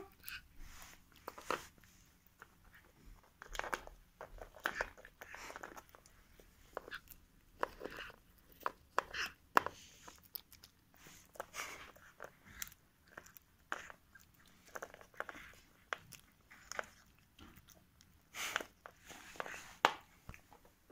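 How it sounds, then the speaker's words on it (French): A cat named Toffee crunching and chewing dry food up close, a steady run of small crisp bites and chews at low level, with faint background shuffling. "Vous l'entendez, le bruit qu'elle fait, comme elle croque et tout?"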